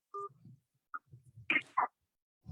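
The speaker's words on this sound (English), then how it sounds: "To accept, press 1." A telephone keypad tone sounds as 1 is pressed to accept a call: a short, clean dual beep, then a second brief tone, followed by faint voice-like sounds.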